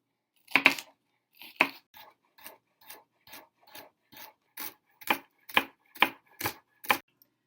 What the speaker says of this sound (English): you'll want to chop into tiny pieces an onion, 2 carrots, and 3 stalks of celery